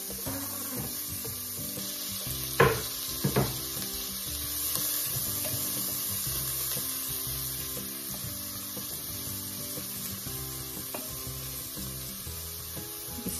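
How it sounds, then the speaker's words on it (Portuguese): Onion browning in a pan gives a continuous close sizzle and fry, with a couple of sharp utensil knocks early on and no talk. "E já vou colocar a cebola já para ir dourando junto"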